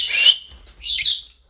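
Pet parrots give two or three loud, bright whistling calls in quick succession, close by, with brief quiet gaps between.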